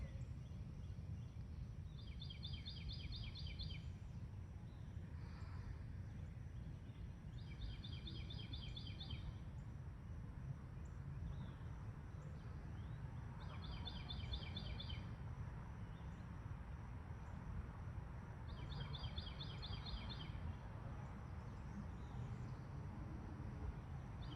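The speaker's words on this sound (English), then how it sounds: "Let's listen to the birds." Birds chirp in short, repeated high trills every few seconds, faint and distant, over a steady outdoor hiss.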